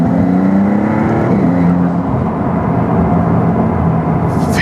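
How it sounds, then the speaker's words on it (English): Maserati MC20 supercar engine on a test drive, with a steady induction roar and whir heard from inside the cabin behind the seats, loud and continuous, with a slight rise in pitch and no talk. "Man, I love the induction noises in the back over here."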